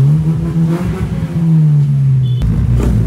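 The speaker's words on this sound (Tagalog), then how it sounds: "napaayos na pala namin yung muffler, no? So sound check na lang tayo." Honda Civic EK9 engine revving through a freshly repaired muffler, a loud, close, deep exhaust drone that rises and falls in pitch for a few seconds with no talking.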